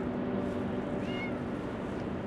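A cat riding along with a truck driver gives a single short meow about midway through, faint against a loud, steady engine rumble inside the truck cab.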